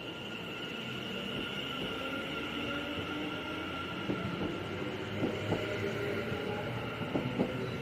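A passenger train pulls away from Aston toward Redditch as a steady low rumble with faint clickety-clack wheel beats, moderately near and holding level throughout.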